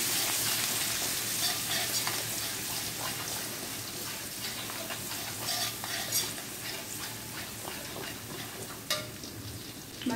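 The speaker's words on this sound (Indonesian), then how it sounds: "Ini minyak sudah saya kurangkan ya untuk menumis bawang putih" Garlic sautéing in a small amount of frying oil for fried lumpia filling, a continuous soft sizzle with scraping stirring strokes and occasional sharper clinks, close by, with no voices.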